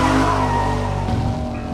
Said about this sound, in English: all we're doing is power slides